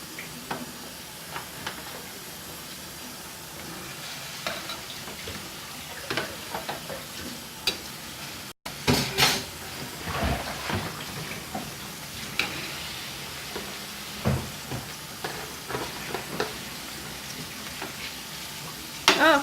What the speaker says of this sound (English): I'm gonna fry.